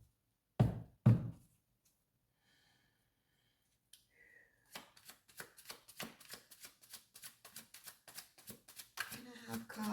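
Tarot cards handled during a reading: two sharp knocks on a table, a quiet pause, then a run of rapid riffling shuffles building in intensity, close and crisp.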